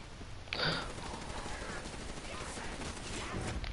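Rapid automatic gunfire at a zombie in a PS4 shooter game: a sustained burst of shots fired in quick succession, loud and near, with a brief sharper onset and a gasp-like breath nearby.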